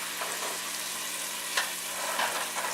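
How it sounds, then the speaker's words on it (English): Tomatoes being mashed in a hot pan for a spicy Indian pav bhaji vegetable curry, a steady close sizzle with soft scraping and squelching pushes of the masher, no one talking. "So that's why I'm mashing this tomato."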